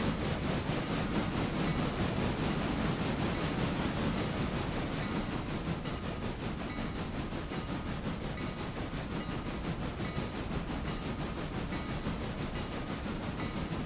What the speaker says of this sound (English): now we got a proper train going